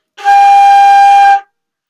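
One clear, sustained flute note from Jolly Old Saint Nicholas rings loud and alone for just over a second, then stops cleanly into silence.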